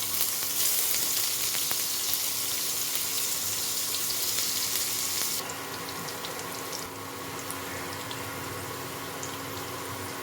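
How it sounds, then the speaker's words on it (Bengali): Thinly sliced potatoes frying in hot oil with whole cumin seeds, a steady close sizzle and crackle that continues throughout and softens slightly partway. "এই যে পাতলা করে কেটে রাখা আলুটা আমি ভেজে নেব।"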